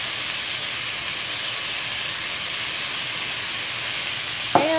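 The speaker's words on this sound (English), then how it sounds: "go ahead and saute that a little bit" Steady, dense sizzling of food sautéing in a pan, continuous and close, with a brief clink of a utensil near the end.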